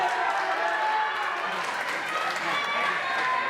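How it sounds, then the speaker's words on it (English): Wrestling crowd in the Peacock tent roars with a steady, dense wash of cheering and noise that fills the space, with voices mixed into the din. "Listen to that crowd."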